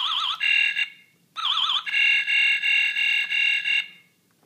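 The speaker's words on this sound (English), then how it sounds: "Yay! It beeped." An Operation board game's electronic buzzer beeps twice in long, warbling tones, the second stretching on several seconds with slight pulses before cutting off.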